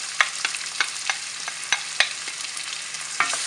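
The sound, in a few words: chopped onions frying in a pan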